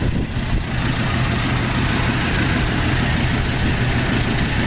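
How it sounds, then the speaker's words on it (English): A 1980 Pontiac Formula with an original small block V8 idles steadily, a loud, close, continuous rumble with an even low throb and no talking. "Just a nice running, original, small block V8 Formula."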